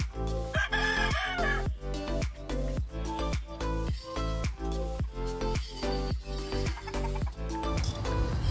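A rooster and two country hens on a rooftop farm, with repeated crowing and clucking in a steady rhythm, loud and close, and no one talking.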